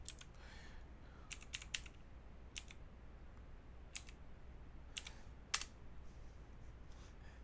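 Someone types on a computer keyboard, scattered quiet key clicks in short irregular bursts against a faint room background.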